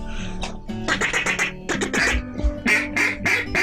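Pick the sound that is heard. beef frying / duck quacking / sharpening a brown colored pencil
duck quacking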